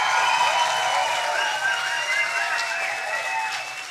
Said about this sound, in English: How does a stage 10 applause sound like tonight?